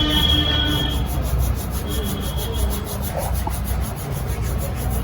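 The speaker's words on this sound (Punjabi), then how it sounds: "ਇਹਨਾਂ ਨੂੰ ਵੀ ਹੱਥਾਂ ਨਾਲ ਪਰ ਰਗੜ ਲਾਂਗੇ" Carom seeds (ajwain) rubbed between the palms over a bowl while preparing jaggery sweets, giving a steady, close dry rasping texture throughout with no talk.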